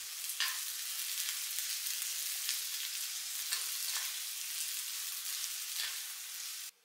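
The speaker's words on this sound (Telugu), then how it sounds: "చిన్నగా కట్ చేసినటువంటి ఉల్లిపాయ ముక్కలు వేస్తున్నాను." Two medium onions, finely chopped, fry in hot oil for a chicken dum biryani, a close, steady hissing sizzle with occasional soft stirring bumps before it cuts off abruptly.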